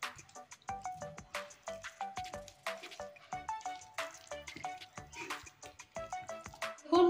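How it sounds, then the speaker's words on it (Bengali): Bread dough worked by hand with ghee in a bowl, soft and oily, giving repeated wet squishing and slapping sounds in a steady rhythm, close and fairly faint, with light clinks against the bowl. "এখন মাখতে মাখতে দেখুন কতটা নরম হয়েছে আর কতটা মলম হয়েছে।"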